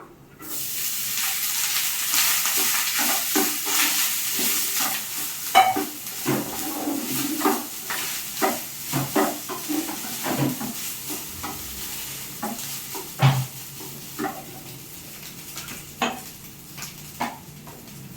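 Turmeric rice is stirred in a hot pan, a spoon scraping and knocking against the metal in irregular strokes over a continuous gentle sizzle, close and clear with no talking.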